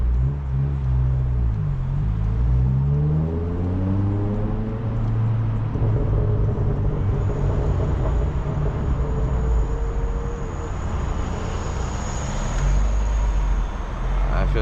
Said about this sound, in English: I'll do a little freeway pull for you guys. See how it pulls if there's no traffic.